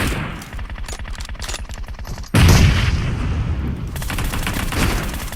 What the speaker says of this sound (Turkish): Şöyle bir bomba saldım oraya.